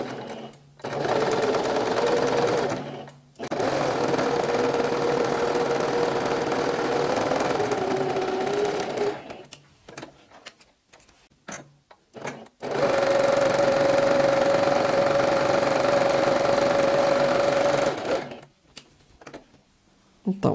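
A sewing machine stitches the side seams of a protective face mask, running loud and steady in two long bursts broken by short pauses and a few clicks.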